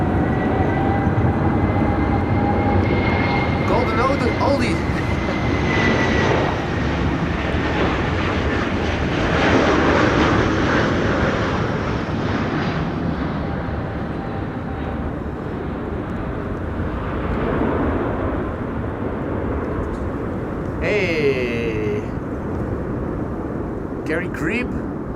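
A 28-year-old Star Alliance-liveried airliner from Munich roars past at Schiphol in high winds, a sustained loud jet rumble that swells and slowly fades, with someone talking over it.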